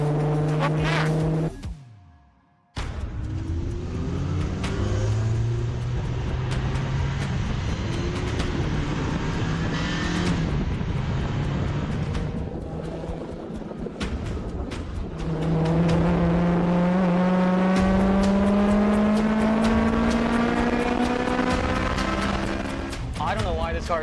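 A GLTC touring race car laps Road America, its engine note sweeping up and down through gear changes and braking, loud and close from onboard, with a brief dropout near the start and a driver talking over it at times.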